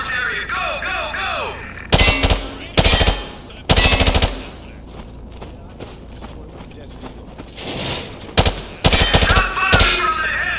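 Loud bursts of automatic gunfire in Call of Duty Modern Warfare 2 on a training range, several separate volleys spaced a second or two apart, with a shouting voice giving orders between them.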